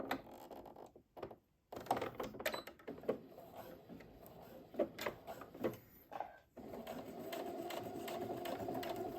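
A sewing machine topstitches a zippered fabric pouch in short bursts of rapid mechanical stitching, pausing briefly between runs, then settles into a longer steady stretch of whirring needle strokes, close and fairly quiet.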